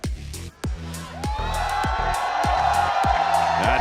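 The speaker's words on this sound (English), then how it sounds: "The crowd is ready. Competing chants, competing teams." Esports arena crowd at a VCT Americas Valorant match between SEN and G2 at the Riot Games Arena, cheering and chanting over a steady broadband roar, with repeated rhythmic deep thumps like drums pulsing through the noise.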